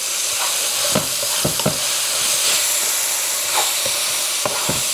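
Ground turkey cooking in a pan, a constant close hissing sizzle with a few sharp spoon scrapes and stirring knocks, no talking.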